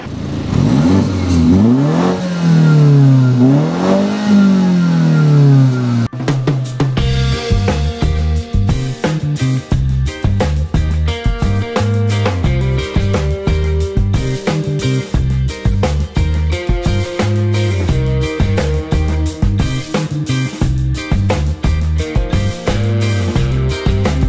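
A 2014 Mini Cooper S engine revs hard, its pitch climbing and falling twice in loud, close sweeps, before giving way to a steadier rhythmic clatter for the rest of the stretch.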